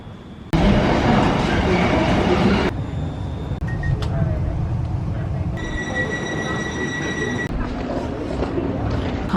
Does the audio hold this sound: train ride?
yes